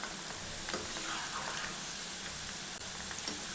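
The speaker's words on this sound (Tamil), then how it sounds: "ஹை ஃப்ளேமில் வச்சுட்டு நல்லா பொரித்து எடுத்துக்கலாம்." Okra slices deep frying in hot oil over a high flame give a steady, continuous sizzle and bubbling crackle, close and moderately quiet, with no one talking.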